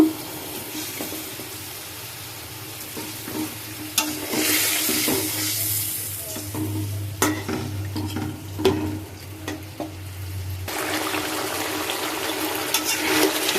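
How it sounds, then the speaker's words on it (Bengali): Snakehead fish being fried and stirred in a spice paste, with a moderate sizzle under repeated scraping and knocking of a spatula in the pan, louder near the end. "এখন আমি দিয়ে দিচ্ছি মাছটা একটু কষিয়ে নিব"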